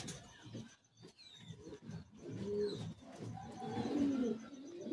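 Old bloodline Madrasi pigeons cooing close by in soft, repeated throaty phrases, with quiet gaps between, fairly faint overall and without talk.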